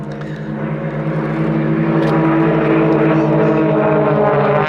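Extra 300 aerobatic aircraft at an airshow drone overhead with a loud, sustained propeller-engine hum that swells gradually and holds steady throughout, broad and rumbling with strong harmonic tones.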